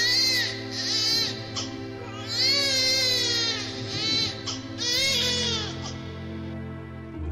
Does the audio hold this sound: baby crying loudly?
yes